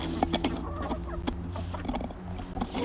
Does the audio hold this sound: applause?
no